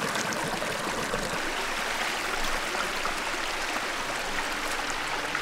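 A natural water stream on a plantation flows in a steady, close, broadband rush with no breaks and no voices.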